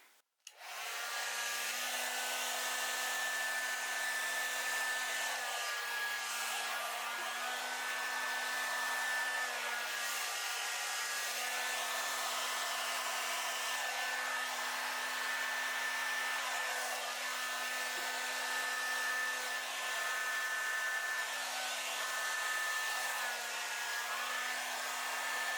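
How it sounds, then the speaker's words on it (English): A blow dryer set on high with the cool button pressed runs steadily for the whole stretch, drying poured acrylic paint; its even, loud whirring whine starts abruptly and never changes. "Put my blow dryer on high and I push the cool button so it doesn't cook the paint."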